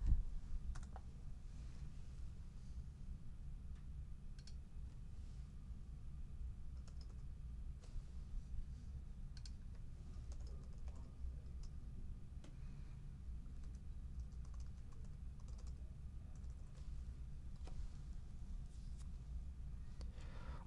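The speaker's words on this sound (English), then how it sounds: "keep typing in the original text window" Computer keyboard typing: light, irregular key clicks that sit faintly over a steady low hum for the whole stretch, with no one speaking.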